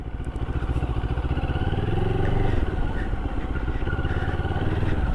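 A Moto Morini adventure motorcycle rides off-road on muddy dirt with the rider standing on the pegs. The engine thrums steadily and loudly, close up, with a slight rise in revs midway and no speech.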